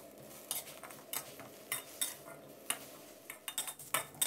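Chillies, garlic, shallots and tomato being pan-roasted with a splash of water, a short run of sharp utensil scrapes and clinks against the pan over faint background sizzle, close and without speech.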